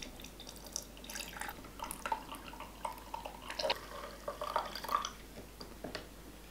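Hot water trickles through a ROK manual espresso maker in a quiet room, a faint irregular dripping and splashing that grows slightly busier midway.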